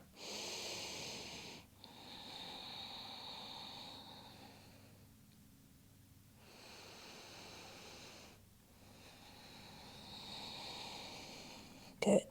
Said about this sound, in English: we're going to take a few deep breaths here in lizard.